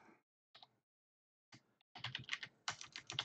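Quiet typing on a computer keyboard, a few isolated clicks at first and then faster clustered bursts of keystrokes, close and soft with no talk.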